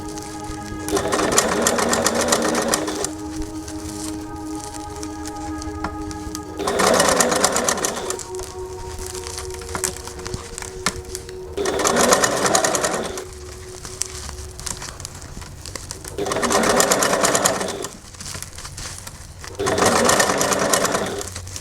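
A sewing machine stitches a seam forward and backward, its loud close motor whir running in several bursts of a few seconds each, with quieter handling and pauses between runs.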